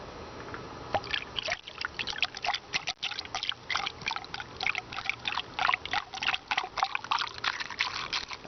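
A gallon of engine coolant poured slowly into a Toyota Prius cooling system during a drain and refill, a close, continuous glugging trickle with irregular bubbling surges and no talking.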